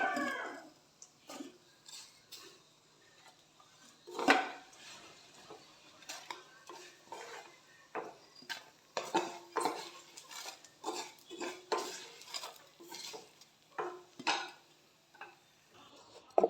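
Spoon scraping and stirring cooked coconut curry in a pot, scooping it out in a steady run of clinks and scrapes with a louder knock early on, close and alone.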